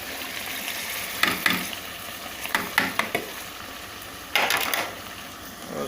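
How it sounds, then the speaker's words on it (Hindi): Chicken and capsicum fry in a pan while a spoon stirs them, a continuous sizzle punctuated by several bursts of louder scraping and clattering strokes, without any talking. "उसके बाद इसको चम्मच के साथ मिक्स करेंगे अच्छे तरीके से।"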